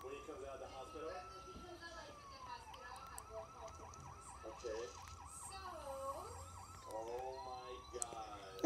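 A thin LEGO City toy siren wails steadily, its pitch rising and falling in repeated loops, with voices chattering in the background.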